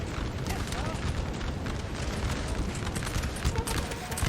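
Dense, continuous battle din from Napoleon Total War, with massed artillery firing canister shot and musket volleys in a large 4v4 field battle, loud and unbroken, with booms and crackling fire layered throughout.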